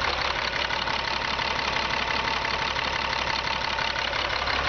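A Freightliner diesel grain truck idles steadily close by, its low engine note running with a rapid, even knocking pulse and no voices over it.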